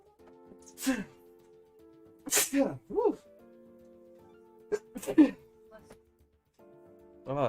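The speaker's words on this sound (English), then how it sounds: "Oh, it's all this sneezing." A person with allergies sneezes several times in short, sharp bursts, separated by brief pauses, close and fairly loud, with a voice speaking between the sneezes.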